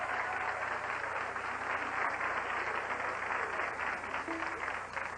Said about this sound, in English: I think one round of applause, right?